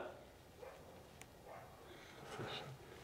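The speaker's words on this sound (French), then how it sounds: "Le chien a gueulé dehors" A dog barks outside an abandoned luxury hotel, faint and distant, in a few short muffled outbursts under a steady noisy background.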